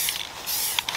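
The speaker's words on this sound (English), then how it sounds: "I'm just using a damn spray paint" Spray paint can hissing onto a Zastava Arms ZPAP M92 Tactical rifle, a close steady spray with short sputtering bursts near the end.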